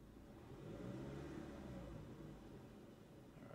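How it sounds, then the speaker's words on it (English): A car engine revs up as the accelerator is pressed, giving a low steady rumble that swells and then eases slightly, heard from close by with no talking. "as we press the accelerator"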